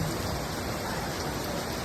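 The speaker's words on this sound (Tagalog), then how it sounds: "Umuulan ang day 1." Steady, dense rain pours down, a constant broadband hiss with no gaps and no voices.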